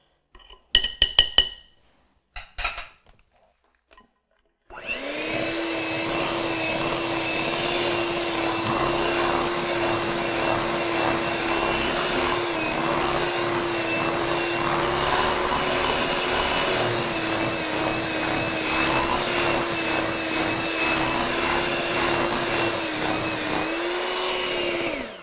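A cheap electric hand mixer beating eggs: a few sharp handling clicks and knocks, then the motor starts and holds a steady, fairly quiet whirring drone, slightly wavering, with no speech.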